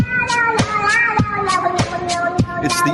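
A cat meows repeatedly with a loud, echoing quality, about five evenly spaced meows over a few seconds, close and clear with steady background hum.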